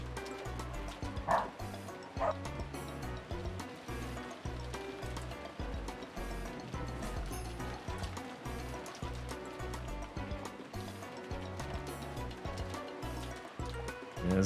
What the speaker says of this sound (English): Yes, excuse the dog.